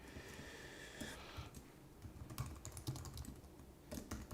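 Quiet, steady typing on a computer keyboard during software work, with soft rapid key clicks in an even stream and a few louder taps, close and alone with no voices.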